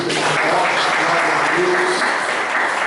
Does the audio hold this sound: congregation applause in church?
yes